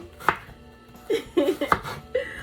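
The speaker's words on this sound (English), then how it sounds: "So we're gonna chop these really well. I'm gonna try to chop them fast" Knife chopping onions on a cutting board for Philly steak sandwiches, several quick, sharp knocks in an uneven rhythm, close and clear with quiet gaps between.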